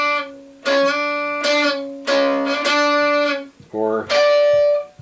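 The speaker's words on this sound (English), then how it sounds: "If you haven't fretted it properly, it'll sound like this." An improperly fretted guitar note buzzes: several sustained, rich, ringing tones are plucked one after another, each held about a second, loud and close.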